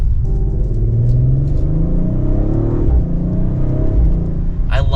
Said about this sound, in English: now you can hear that exhaust a little bit under a mild acceleration.